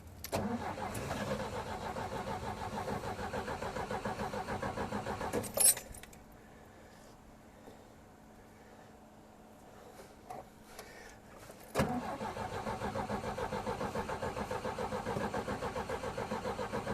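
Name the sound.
1962 Jeep M170 engine cranking, trying to start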